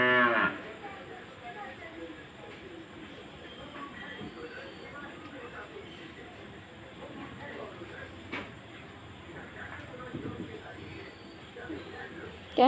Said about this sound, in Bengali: তো একটা গরু খুব ডাকছে